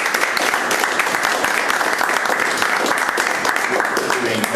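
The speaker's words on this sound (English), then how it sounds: "suggest that we give a round of applause and ourselves a round of applause" Loud, close applause from an audience at the end of an academic AI talk, a thick steady clatter of many hands continuing for several seconds without pause.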